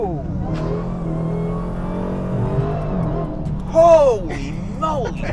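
Dodge Demon 170 accelerating hard, a steady engine drone heard from inside the cabin with a rising whine near the end, while a voice talks over it.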